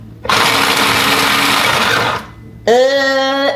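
An electric chopper chopping onion and chili whirs loudly for about two seconds, stops briefly, then starts again with a higher, strained motor whine.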